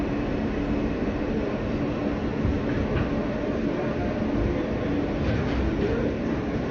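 A New York City subway train rolls along in a steady, loud, continuous rumble with a faint high squeal and rattle, heard from inside the car with no clear talk.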